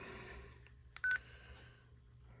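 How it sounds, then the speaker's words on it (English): A short electronic key beep sounds once from a Retevis RB17P two-way radio, brief and clear against a quiet background hum. "we got the beep, which is on right now"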